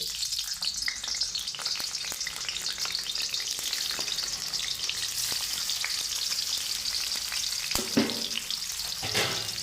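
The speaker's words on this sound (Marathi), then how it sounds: "ह्याला पहिला थोडंसं तेलामध्ये परतून घ्यायचं आहे" Cubes of paneer frying in hot oil, a steady bright sizzle running throughout with occasional stirring scrapes, close and fairly loud with no talk.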